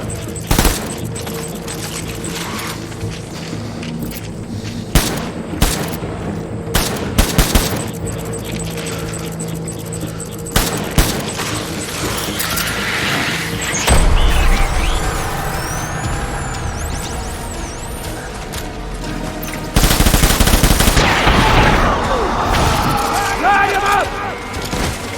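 Gunfire in the video game Death Stranding: bursts of rapid automatic shots and heavy blasts recur across the clip, loud and close, over a constant mechanical background with game voices.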